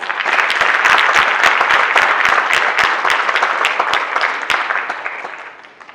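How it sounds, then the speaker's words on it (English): A crowd at an arangetram Indian classical dance debut gives a dance guru a loud, dense round of applause that holds strong, then thins into scattered claps and fades out. "So please give her a round of applause."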